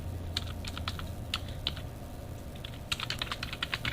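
Rapid clicking of computer keyboard keys in irregular bursts over a steady low hum, close and fairly loud throughout.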